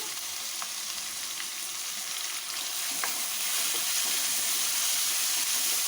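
Chopped onions tipped into a pan of frying ginger and garlic set off a steady, close sizzle with faint stirring clicks, rising slightly louder toward the end. No voices.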